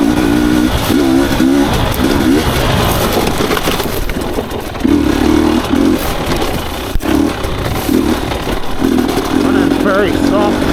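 An enduro motorcycle engine drones loudly and close while riding off-road, its note pulsing and rising with the throttle, with wind rumble and a voice speaking now and then over the engine.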